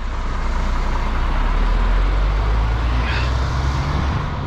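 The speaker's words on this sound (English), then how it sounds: "the driver's taking the trailer away now" A MAN articulated truck unit pulling away with its trailer gives a steady, loud diesel rumble with a deep low drone, holding close and even throughout with faint higher whine near the end.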